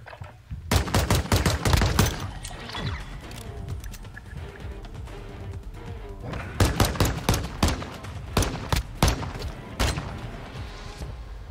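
Call of Duty: Modern Warfare 2 gunfight: rapid bursts of loud, sharp gunshots in clustered volleys, a heavy string at the start and another run later, separated by quieter stretches.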